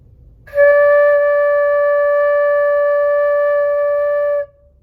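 A single breathy flute note blown by a beginner, held steady for about four seconds in quiet, then stops abruptly.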